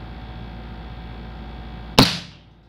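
PR900W 5.5 mm air rifle firing a pellet at a Coca-Cola bottle cap from 10 metres: one sharp, close crack over a low background hum, with a brief decaying tail.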